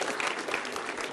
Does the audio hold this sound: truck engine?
no